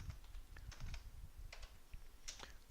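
Keystrokes on a computer keyboard as a command is entered at a command prompt to install a Python MySQL package: a quick, irregular run of close, light clicks with short pauses between bursts.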